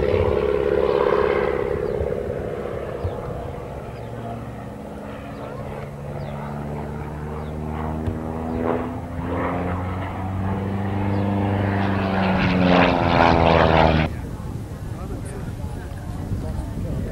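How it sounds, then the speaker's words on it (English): Propeller aircraft displayed at the 1999 Breighton airshow drones overhead, its engine pitch sliding up and down as it passes, with a commentator talking over it throughout. "This aircraft today, based at Breighton, is being displayed by Alistair Newell."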